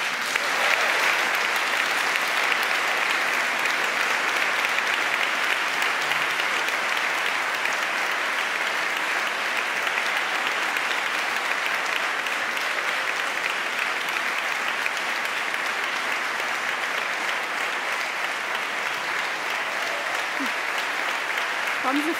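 Sustained audience applause at a German nonfiction book prize ceremony honoring historian Christina Morina, a dense, even wash of clapping lasting over twenty seconds with no break.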